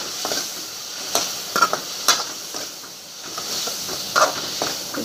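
Masala and spices being stirred into vegetables frying in a pan, with scattered scraping strokes and a soft steady sizzle, close and moderately quiet, no voices.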